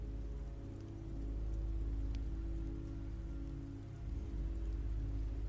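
Steady rain pours down in The Walking Dead Season 2 video game, a dense even hiss of drops on surfaces with a low rumble underneath, continuous and fairly quiet.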